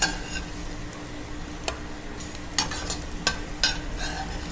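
A cooked two-egg dish is moved from a frying pan to a plate, with a steady soft sizzle under a few sharp utensil clicks and scrapes against the cookware, close up and without talking.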